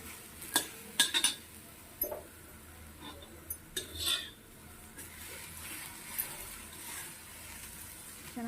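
Chopped bitter gourd is stirred and roasted in a pan, with sporadic metallic clinks and scrapes of the utensil against the pan over a faint, quiet sizzle.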